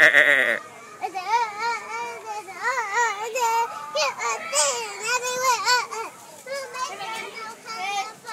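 A voices a string of wavering, bleating cries in imitation of a goat, with short pauses between them, close and fairly quiet.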